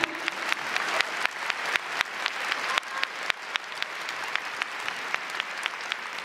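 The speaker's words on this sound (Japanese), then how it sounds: "みんな拍手して。" Steady audience applause fills the hall at the RISE kickboxing event featuring Tenshin Nasukawa, with dense clapping throughout and sharper individual claps standing out on top, carrying on without letting up.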